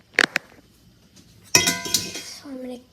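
Bubble tea being stirred in a glass, with a couple of sharp clinks against the glass near the start and a louder burst of clinking and rattling later, with a voice briefly heard.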